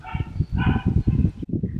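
A few quick, high yips and barks from a young dog, close and lively, in a short burst.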